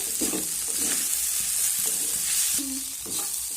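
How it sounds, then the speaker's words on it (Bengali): Egg and mixed vegetables stirred together as they fry in a pan, a loud steady sizzle nearby with repeated spatula scrapes and knocks, no voices. "ডিমটাকে এইভাবে ভেজে নেওয়ার পর এবার সমস্ত সবজিগুলোকে আমি এইভাবে মিশিয়ে নেব"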